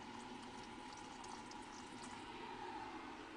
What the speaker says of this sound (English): Add some boiling water.